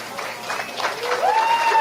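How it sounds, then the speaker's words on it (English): Wedding guests applaud a father of the bride's speech, a brief burst of crowd clapping that swells over about two seconds, with a faint tone rising beneath. "Applause break already"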